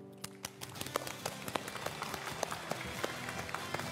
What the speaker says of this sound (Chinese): 让我们用掌声欢迎张教授来到我们的科学会